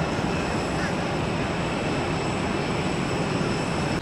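An airliner at Tampa airport sends out a loud, steady roar of engine noise that holds evenly throughout, with no other sounds breaking through.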